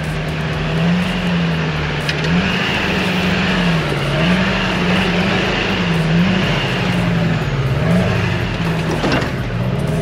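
A Duramax pickup crawls a hard, bumpy off-road track in the Glasshouse Mountains. Its engine drones up and down in slow waves over a close, steady rumble, with clunks and knocks from the rough ground and no speech.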